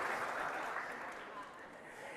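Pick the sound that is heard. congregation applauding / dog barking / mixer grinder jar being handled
congregation applauding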